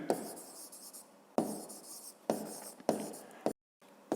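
A pen scratches across paper in a quiet room while working a 5th-grade maths exercise: several short bursts of close, soft scribbling separated by brief pauses, with one moment of near silence.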